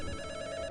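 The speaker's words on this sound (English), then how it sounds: "A phone call?" Short burst of a telephone bell ringing in the game Return to Shironagasu Island, a bright trilling ring heard alone.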